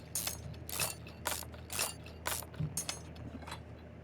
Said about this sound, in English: We're going to take out the rear drive shaft,